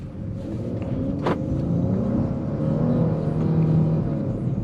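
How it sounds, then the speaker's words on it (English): A 2021 Chrysler 300 with a V6 engine accelerates, its steady engine rumble heard from inside the car and rising gradually in pitch and loudness, with no talking over it. "Acceleration is actually pretty quick on this thing though."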